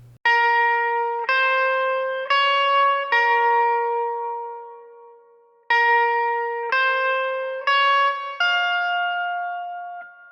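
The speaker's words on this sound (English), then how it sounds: "the lead guitar part that you hear right on top of that goes like this" Lead electric guitar part rings out alone, eight clean picked notes in two phrases of four, each sustaining and decaying, with a brief pause between the phrases.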